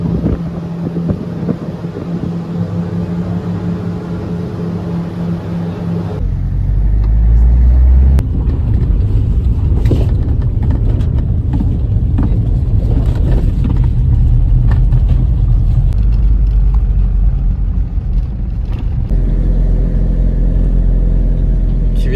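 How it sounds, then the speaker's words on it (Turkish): A vehicle carries workers to a kiwi orchard in New Zealand, its engine a loud, steady rumble that deepens and grows heavier after the first few seconds and holds throughout, with wind buffeting and no talk. "tarlasına gelirken bu aracı kullanıyoruz"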